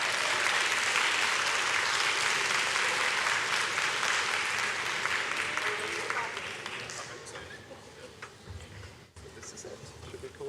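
Dense, sustained applause from a large audience at a closing ceremony, fading gradually toward the end.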